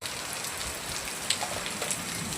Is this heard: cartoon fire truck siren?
no